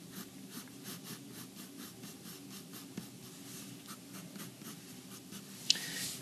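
Pencil drawing lines on paper for an apple study, a steady rhythmic scratching of repeated strokes close up, with a brief sharper scrape near the end.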